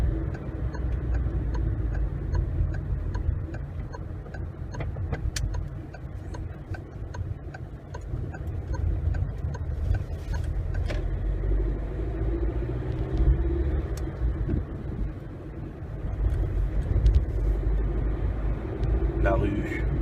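A car engine during a mock driving test in Strasbourg holds a steady, loud rumble throughout, with faint ticking like an indicator and someone speaking French over it.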